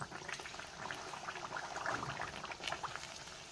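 Puris frying in hot oil for ladoo, a steady dense crackle and bubbling sizzle, close and fairly loud, continuing throughout with no talk.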